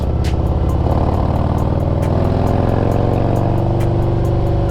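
A motorcycle engine runs loud and close with a steady throbbing growl that swells as the throttle opens, continuous throughout with no talking.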